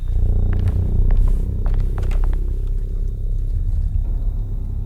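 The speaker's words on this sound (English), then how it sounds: "That was a freaky purr." A low, rolling creature purr rumbles steadily and loudly throughout in the 2024 video game Alone in the Dark, with a few faint higher clicks and tones drifting over it.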